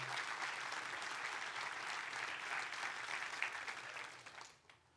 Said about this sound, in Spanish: Den un fuerte aplauso a Dios por eso.